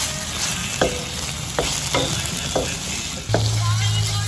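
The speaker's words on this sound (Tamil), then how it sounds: "ஸோ வெங்காயமும் தக்காளியும் வதங்கிக்கிட்டே இருக்குது" Onions and tomatoes sautéing in a pan for Chettinad chicken, a loud, dense, continuous sizzle punctuated by several crisp spatula scrapes at roughly half-second intervals, with no talking.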